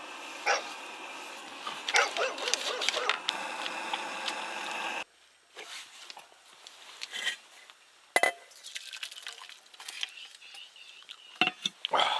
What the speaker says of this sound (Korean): 짖지마!